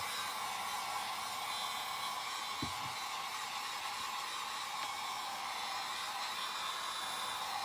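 A hair dryer blows steadily close by to dry a spring craft project, a constant loud whooshing hiss with a brief low bump partway through and no talk.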